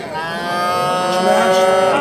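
Cattle at a livestock market give a long, loud, droning moo close by, with faint crowd voices underneath.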